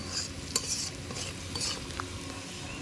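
Onion and garlic fry in a wok, a steady close hiss broken by a few sharp scrapes and clinks of a utensil against the metal, with no voices.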